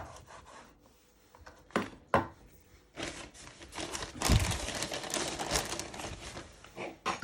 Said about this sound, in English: You first chop the ends off your end of your swede, and you do the other side.